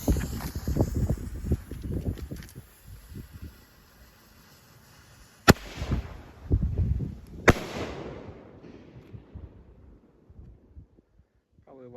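A red and green firework goes off by a river after the Fourth of July, with crackling pops and two sharp loud bangs that echo and die away, wind noise and footsteps around them.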